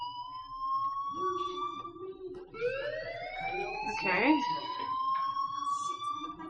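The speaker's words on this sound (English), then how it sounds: "do you hear that fire alarm?" Fire alarm ringing inside the video game Life Is Strange, a sustained electronic tone that sweeps and holds at moderate loudness, while a voice speaks briefly over it.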